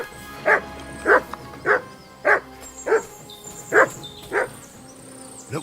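The dog Mutt in Kingdom Come Deliverance 2 barks seven times at a steady, even pace. Each bark is clear and moderately loud over a faint ambient game background.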